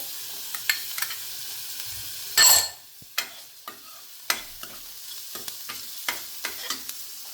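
Garlic drops into hot oil in a pan, with a sudden loud sizzle burst followed by quieter crackles, light stirring scrapes and scattered clicks, close by with no talking.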